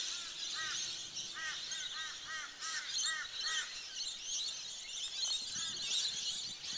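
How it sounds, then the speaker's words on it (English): Roosting parrots at Bongaree on Bribie Island screech in repeated squawking bursts over a dense, hissing chorus of distant bird calls, moderately loud and continuous outdoors, with no talking. "Listen to those parrots. Those parrots are so loud."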